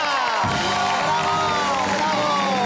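A television studio audience cheers and whoops loudly, a dense roar of voices with rising shouts sustained throughout.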